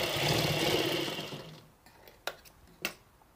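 A sewing machine stitches a cloth face mask in a quick run of rapid mechanical whirring that fades out, followed by two sharp clicks.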